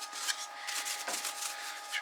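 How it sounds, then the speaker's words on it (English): Dust being brushed off a freshly sanded wooden piece, giving a steady, close, soft bristly rubbing that runs continuously with small strokes and no talk. "brush the dust off of it."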